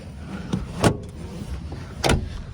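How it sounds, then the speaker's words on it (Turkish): A seat in a Fiat Fiorino 1.3 is pulled back into place with two sharp clunking latch sounds about a second apart over a faint background hum. "Emniyet kemerini tutuyorsunuz ve koltuğu kendinize doğru çekiyorsunuz arkadaşlar"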